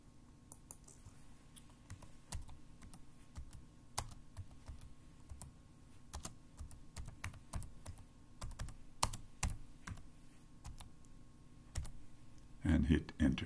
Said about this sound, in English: open your Linux terminal window and type sudo apt install